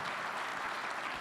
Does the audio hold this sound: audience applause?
yes